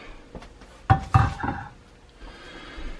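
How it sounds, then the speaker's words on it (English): A lid comes off a pot of used frying oil with two sharp metallic clanks close together, followed by a lighter clink and quiet kitchen room tone. "Take the lid off here."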